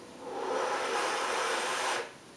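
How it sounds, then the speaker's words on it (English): A steady breathy inhale drawn through lips with a hand pressed against them, part of a tuba breathing exercise, giving a close, even suction hiss about two seconds long that stops abruptly. "We're also going to put our hand up when we inhale against our lips so that we get a suction sound like this"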